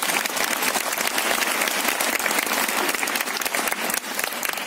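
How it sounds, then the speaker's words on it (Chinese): An audience at a regional leadership training seminar breaks into warm, sustained applause, dense and loud, with many hands clapping steadily throughout. "给阿宝一个热烈掌声。"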